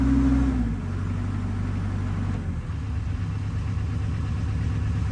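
An old engine with about 2,700 hours on it idling steadily, a low continuous rumble that settles after a brief higher note at the start, close and alone with no speech.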